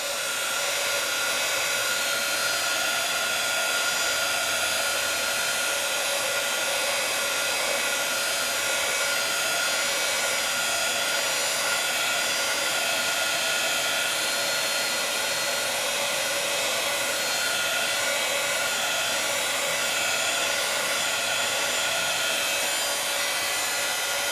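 A heat tool blows steadily to dry stencil paste on black paper, a constant loud broadband whoosh that holds unbroken for the whole stretch with no talking.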